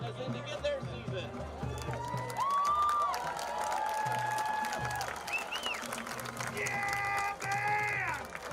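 Crowd cheering and applauding for a high school marching band at a varsity football game, broad continuous stadium roar with shouts and whistles, a voice also heard among the noise.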